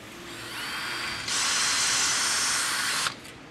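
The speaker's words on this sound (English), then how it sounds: "It shows you where you're going to drill a hole, which is right here." A drill bores a 1/8 inch hole in the shift plate of a Ford C6 transmission valve body, a close, high whine that winds up, rises sharply for a steady stretch of drilling, then stops abruptly.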